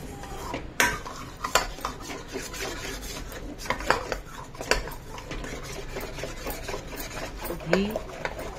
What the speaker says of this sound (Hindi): बस थोड़ी देर और हम इसको चलाएंगे